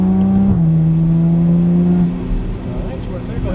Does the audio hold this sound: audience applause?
no